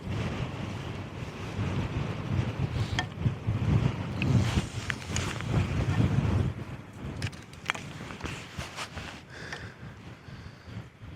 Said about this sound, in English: Don't mind the gust of wind here.